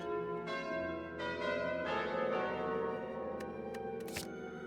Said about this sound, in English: The bell tolls for us.